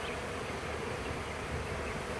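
A swarm of honey bees fanning at a hive entrance makes a dense, continuous buzzing hum close by, steady and even throughout.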